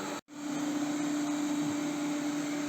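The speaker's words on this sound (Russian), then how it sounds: "А теперь мы отправим пылесос на док-станцию." A Xiaomi Mi Robot Vacuum-Mop Essential runs with a steady, close whirring hum and a constant motor tone, broken only by a brief silent gap near the start.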